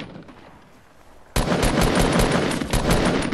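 Video game gunfire bursts in abruptly after a quiet lead-in, a loud, dense stream of rapid automatic shots that keeps going to the end, with no talk.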